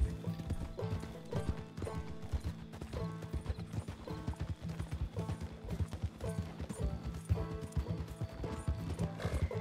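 A horse gallops across terrain in Red Dead Redemption 2, with steady rhythmic hoofbeats and jangling tack throughout, loud and close, with occasional faint game sounds behind.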